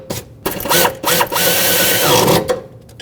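Tightening 10 mm bolts with a swivel socket on a 2013-2020 Nissan Pathfinder during a transmission input speed sensor replacement; short bursts of whirring tool noise start and stop several times up close, with some brief faint speech.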